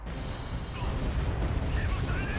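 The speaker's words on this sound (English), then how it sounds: "BM-21s are firing." Rocket launches from BM-21 multiple rocket artillery in the war game Wargame: Red Dragon, a dense continuous rumbling barrage of booming fire with whooshing streaks overhead, loud and sustained.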